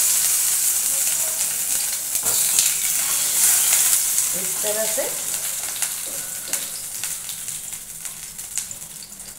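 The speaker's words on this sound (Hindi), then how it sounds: "फिर हम जो सारे टमाटर है वो भी डाल देंगे।" Tomatoes frying in oil in a pan over a medium gas flame for onion tomato chutney, a steady close sizzle with a few stirring clicks and a brief spoken phrase over it.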